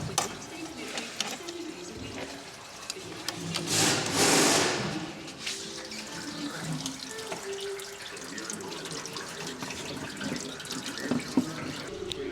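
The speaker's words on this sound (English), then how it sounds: "emptying the coolant, and then I guess remove the rest of the bits and simply swap" Coolant drains from a Tesla Model 3 during an air-conditioning parts swap on a farm, a steady splashing trickle that swells into a louder gush around the middle before settling back to a continuous pour.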